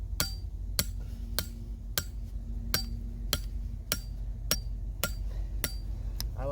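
Trap anchor driven into dirt by about eleven evenly spaced metallic hammer strikes, each a sharp ringing clank, close and alone in a quiet outdoor setting.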